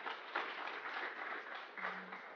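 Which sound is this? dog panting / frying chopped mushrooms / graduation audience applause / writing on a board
graduation audience applause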